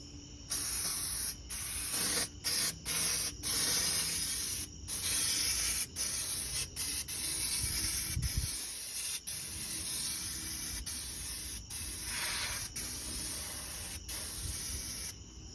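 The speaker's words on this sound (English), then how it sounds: "Just get some spray on them too." Repeated bursts of aerosol spray hiss up close onto smoker racks, short pulses with brief gaps between them, continuing steadily with no voices.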